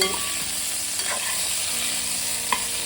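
Brinjal pieces being stirred in a hot pan as they fry for a masala dish, a steady close sizzle with a few sharp spatula scrapes and clinks.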